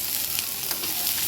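Finely chopped onions sizzle and crackle steadily in a hot pan, close and continuous, with a soft stir audible partway through.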